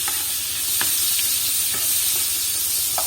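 Mixed vegetables stir-fry in melted butter over high heat, giving a steady, close sizzle with a few sharp stirring scrapes and clacks spaced through it.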